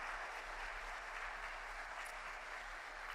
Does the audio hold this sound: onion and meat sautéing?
no